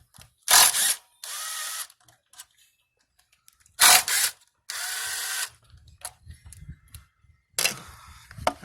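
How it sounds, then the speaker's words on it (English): A ratchet works 10 mm bolts on a 2005 Acura RL during a power steering high-pressure line replacement: three pairs of loud, close bursts, each a sharp clatter followed by a longer steady whirring rattle, separated by near silence. "And then we'll go ahead and take off these 10 millimeter bolts."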